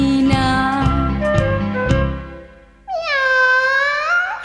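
A cat in a kitchen meows several times in quick succession, then lets out one long, drawn-out meow that rises and falls. Close and clear, with no talking.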